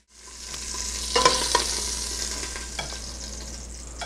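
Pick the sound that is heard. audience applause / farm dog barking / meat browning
meat browning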